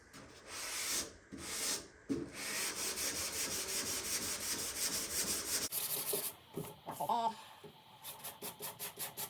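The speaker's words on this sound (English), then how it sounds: "I'm going to sand through here." Hand sanding on a Ford Anglia car body before primer, bursts of abrasive rubbing strokes, continuous scraping in the middle, then a run of short rhythmic strokes, close and fairly quiet.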